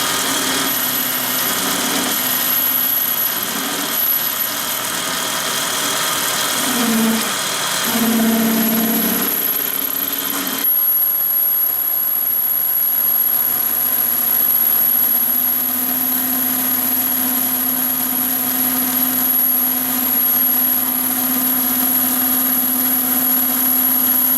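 Lathe turning a stainless steel spinning top: a continuous mechanical drone with a steady tonal hum, slight shifts in pitch partway through, and no voices.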